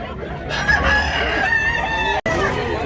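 A rooster lets out one loud, close crow lasting about two seconds amid a poultry market in Tabunok, Talisay, Cebu, with clucking and market chatter around it and a brief dropout near the end.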